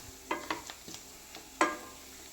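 Beef roast is stirred in a pan with oil, giving a few separate scraping strokes over a soft, quiet sizzle, with one sharper scrape near the end.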